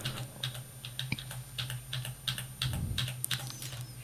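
Computer keyboard keys tapped in quick irregular clusters while a Ctrl R shortcut is entered in CorelDraw, close and fairly quiet over a steady low hum, with no talking.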